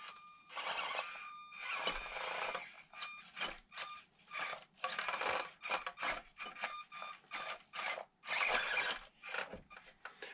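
A plastic body shell for a Scx24 C10 crawler is trimmed by hand, giving close, scratchy rasping and cutting strokes in uneven bursts with short gaps between them.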